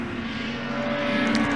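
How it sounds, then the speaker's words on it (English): Street stock race cars roar around Tyrepower Manjimup Speedway on the final lap of a heat race, a loud steady engine drone that swells slightly toward the end. "David Fall starts the final circulation of the Tyrepower Manjimup Speedway."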